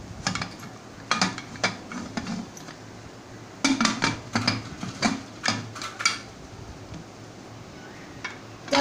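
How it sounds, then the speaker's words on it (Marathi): A steel pressure cooker lid being fitted for plain rice, with a series of close, sharp metallic clinks and clacks in uneven clusters, some rapid taps together and a final click. "तर आता मी कुकरचं झाकण लावून दाखवत आहे"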